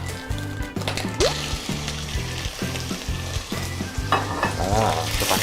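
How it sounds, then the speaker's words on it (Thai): Beef stir-frying in a hot pan before spaghetti goes in, a loud continuous sizzle with rhythmic scraping and tossing strokes of a spatula throughout. "เดี๋ยวเราจะผัดเนื้อให้ใกล้สุกนะครับ"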